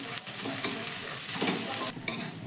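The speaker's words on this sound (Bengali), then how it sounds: "আদা রসুনটাকেও পেঁয়াজের সঙ্গে একটু ভেজে নেব।" Grated ginger and garlic frying with onions in hot oil: a steady close sizzle broken by soft scraping stirs, with no voices.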